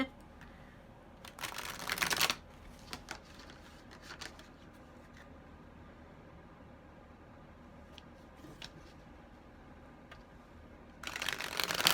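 Pick-a-card oracle cards are shuffled in brief riffling bursts, close and quiet, with a longer flurry early and another at the end, separated by faint handling ticks.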